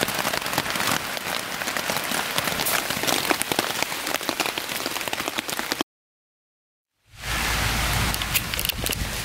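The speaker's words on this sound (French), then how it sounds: "Il pleut." Steady rain falls on a surface nearby, a dense even hiss of drops that cuts out for about a second before resuming just as strongly.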